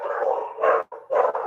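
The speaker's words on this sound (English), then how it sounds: "That's my baby's barking." A dog barks indoors in a home, a few loud, close, yappy barks in quick succession with a brief gap between them.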